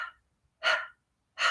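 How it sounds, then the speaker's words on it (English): A person pants like a dog with tongue out in a yoga breathing exercise, three sharp breathy exhales spaced by short silences, close and alone. "if you want to practice panting like a dog with your tongue out"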